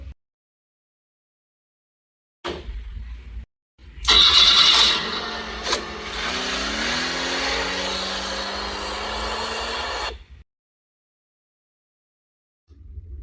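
A vehicle engine gives a short crank, pauses, then catches and runs loudly for about six seconds with a rising whine before cutting off into silence, with no one speaking.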